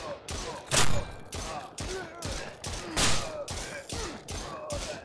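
Gunfire in the indie shooter Postworld: a rapid series of sharp, loud shots in irregular bursts, roughly eight or nine blasts with echoing tails, close and dominant.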